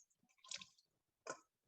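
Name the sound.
squeezing water out of blanched Swiss chard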